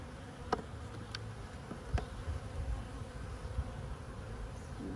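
Honey bees buzz around an open hive frame, a soft, steady hum close by with a few brief louder passes as single bees fly near.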